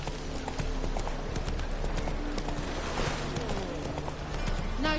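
Horse hooves galloping through Novigrad in The Witcher 3: Wild Hunt, a steady rapid clip-clop carrying through the whole stretch over a constant background bed of game music and ambience.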